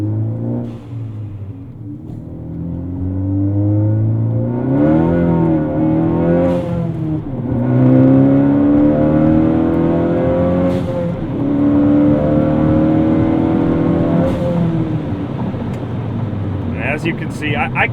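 Ford Focus ST fitted with a Borla exhaust, heard from inside the cabin under full-throttle acceleration: a loud, sustained engine drone climbs in pitch through several gear pulls over about eighteen seconds.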